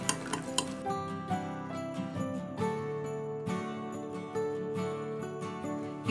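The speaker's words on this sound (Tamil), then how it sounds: "இப்போ இது எல்லாத்தையும் நல்லா மிக்ஸ் பண்ணிடுங்க." A spoon clinks and scrapes softly in a bowl as marinade ingredients are mixed for KFC-style chicken tenders, with quiet, irregular taps over a steady tonal background.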